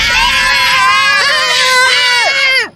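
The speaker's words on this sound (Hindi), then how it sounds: "उस औरत को देखते ही उन तीनों की चीख निकल गई।" Several people shriek in fright in a horror story scene, high wavering screams overlapping loudly for a few seconds before cutting off abruptly.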